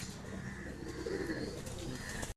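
Low, soft cooing of an Andra pigeon repeats steadily against a faint background hum, close by, ending in a brief moment of silence.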